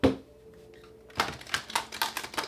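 Tarot cards being shuffled close by, a few crisp riffling flutters and taps arriving in quick bursts after a short quiet start, with no voices.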